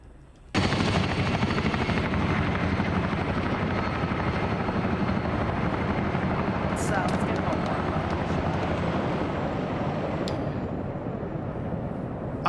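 Chinook helicopter flying in a military shooter game, its loud, steady rotor drone running continuously for the whole stretch after a sudden start, with brief sharp clicks and bursts partway through.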